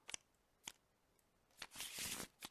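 Cards for the Battlestar Galactica board game being shuffled: a few short, crisp riffles, then a longer, dense flutter of cards near the end, quiet and close.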